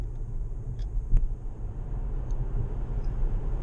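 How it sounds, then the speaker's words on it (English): Steady low rumble of wind and road noise inside a moving Tesla Model S cabin, a broad constant roar with a couple of faint brief ticks and no talking. "This particular car seems to have quite a lot of wind noise coming in."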